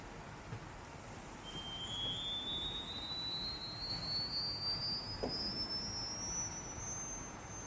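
A thin, very high-pitched whistle from the smallest pipe of the Shrewsbury Abbey organ sounds steadily, rising slightly in pitch, faint over a quiet room hum.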